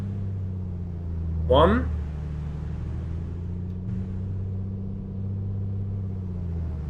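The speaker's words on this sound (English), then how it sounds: "then propeller cycle 3 times, then reduce to 1800 RPM and check steady" A Piper Comanche's engine during a run-up in a flight simulator, with the propeller cycled through pitch changes. It makes a steady, close droning hum with slight shifts in tone, and a voice briefly speaks over it.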